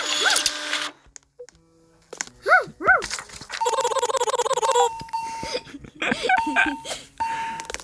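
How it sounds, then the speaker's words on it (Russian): Cartoonish dog yelps and whimpers from a dog patient in a Roblox animal hospital game, mixed with a printer-like mechanical chatter and game beeps, heard alongside talking. "Это собака, Данил, я так понял."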